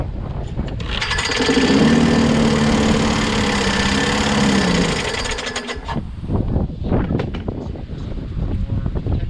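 Craftsman lawnmower with a Briggs & Stratton Quantum engine cranking on a starting attempt, a loud rough mechanical whir for about five seconds before it cuts out, followed by clunks and rattles.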